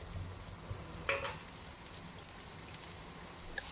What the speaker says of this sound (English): We stir this and we let the onions to soften a bit.